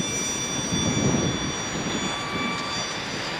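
An E-flite MiG-15 ultra micro RC plane flies with a steady, thin electric whine and airy rush that holds at an even level throughout, moderately near.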